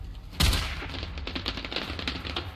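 In the video game Generation Zero, fireworks start with a sudden loud burst, followed by a rapid crackling string of smaller pops that gradually thin out.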